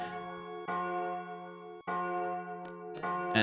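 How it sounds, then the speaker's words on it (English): A chapel bell rings in Final Fantasy VIII, with repeated resonant strikes whose long metallic tones overlap and sustain, heard alone against game music. "first I have to ring this bell with my secondary party, which activates a brief timer"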